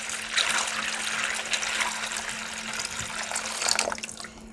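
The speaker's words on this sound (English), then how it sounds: "Now pots this big take a bit more water, so let's put a little more water in there." Water pours from a watering can into a large indoor potted plant's soil, a soft continuous splashing trickle at close range that swells near the end and then tapers off.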